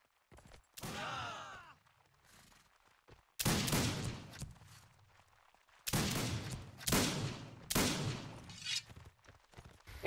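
Volleys of musket gunfire in a line battle multiplayer video game, several loud broadband bursts arriving in waves with crackling tails and fainter shots between them, no talk over them.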